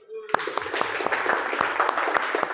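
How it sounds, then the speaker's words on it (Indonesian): Applause for a presenter in a mechanical engineering classroom assessment session: a brief, scattered burst of hand claps from a small group, moderately close, with voices talking over it. "Kasih tepuk tangan buat Yogis"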